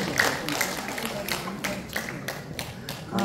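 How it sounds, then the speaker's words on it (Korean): Applause from a conference audience at an opening ceremony, a steady wash of many hands clapping at moderate distance, carrying on for the full stretch without a break. "큰 박수로 부탁드립니다."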